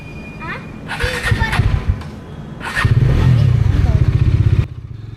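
A motorcycle on a night ride with family on rough roads between Dombivli and Virar rumbles up close, its engine turning into a loud, pulsing drone in the second half, while people talk over it.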